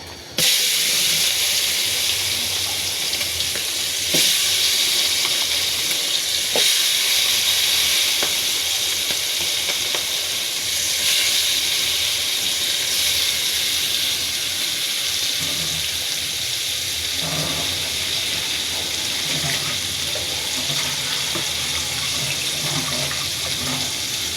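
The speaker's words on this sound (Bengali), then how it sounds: "নাড়াচাড়া করে দিব তেলের ভিতরে মাছগুলো। এভাবে কিছুক্ষণ মাছগুলো ভেজে নিব।" Tengra and koi fish frying in hot oil, a steady loud hiss and sizzle running throughout with a few faint clinks of stirring.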